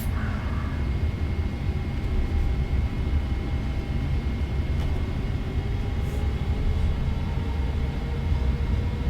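Jet engines of a Boeing 777-300ER in a flight simulator game spool up for takeoff, making a steady, loud, broad roar with a constant low rumble and faint tonal whine throughout.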